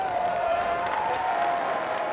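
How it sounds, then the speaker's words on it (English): A crowd cheers along the calm banks of the Nile, waving palm branches and colorful fabrics: a steady, dense wash of clapping and cheering that holds at an even level from start to finish. "Crowds cheer along the riverbank, waving palm branches and colorful fabrics."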